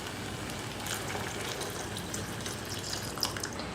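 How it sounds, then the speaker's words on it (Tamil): Dissolved jaggery syrup is poured into milk for a Krishna Jayanthi sweet, a steady close liquid pour with faint splashing throughout, no talking. "கரைச்சி வச்சுருக்கிற வெல்லத்தை இப்போ நான் சேர்த்துக்கிறேன்"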